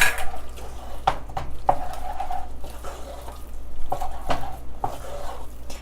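Raw egg being beaten into cream puff choux dough in a pot, a steady scraping stir broken by sharp clinks and knocks of the utensil against the pot, close and fairly loud, with no talking.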